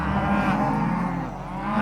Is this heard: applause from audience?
no